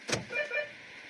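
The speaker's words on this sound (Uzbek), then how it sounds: "Eshikni metdan qulflaymiz." A Chevrolet Cobalt's door locks engage via the remote key fob: a brief, quiet mechanical click followed by a faint, short whir, all within about a second.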